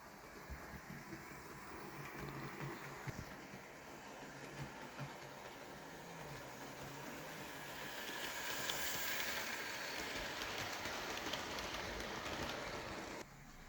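A Hornby Standard Class 2MT model locomotive runs along its track, giving a steady, faint whirring and rolling rattle with soft rail clicks that holds evenly throughout, swelling slightly midway, with no voices.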